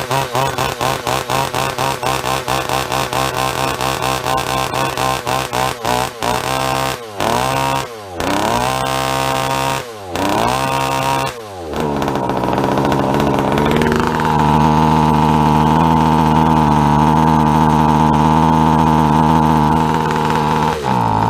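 A small engine from an Icepick RC car fitted with carburetor number 3 runs loud and close, buzzing steadily with several sharp throttle blips and drops, then settling into a sustained high-pitched rev.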